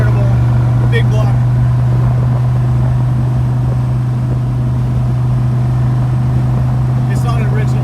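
A 1967 Corvette convertible with a swapped-in big block V8 idles, heard from inside the car as a loud, steady low rumble with a constant drone and a couple of faint higher clicks.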